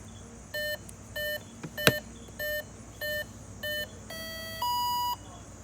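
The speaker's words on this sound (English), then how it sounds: "It's going to beep and make some noises." A small electric model airplane, just hooked up to its battery, gives a series of short, evenly spaced beeps, then a longer steady tone, with a faint click partway through.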